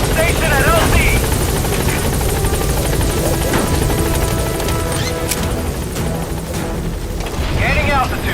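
The Pequod helicopter in MGSV: The Phantom Pain hovering loud and close at a landing zone, a thick, steady rotor roar with swells and radio-style chatter over it.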